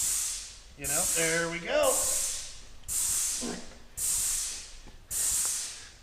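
A grease gun pumps into the tie rod fitting on a dump truck during a service, giving five loud, regular hissing spurts about a second apart, with someone talking briefly between the early strokes.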